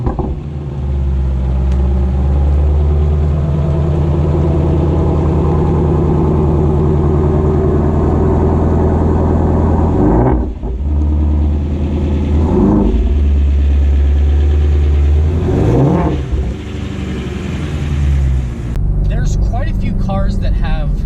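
A 2020 Ford Shelby GT500 in track mode idles with a deep, loud, steady rumble, broken by a few quick revs later on, close to the car.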